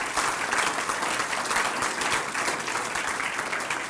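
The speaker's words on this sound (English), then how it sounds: "So please, another round of applause for the Minister," A roomful of people applauds at a medical devices fund grant presentation, dense continuous clapping at an even, moderately close level throughout.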